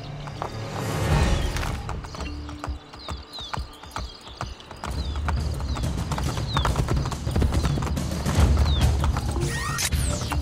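Horse galloping with rapid clip-clop hoofbeats in the Assassin's Creed: Brotherhood game, loud and continuous, mixed with crashes, impacts and game sound effects.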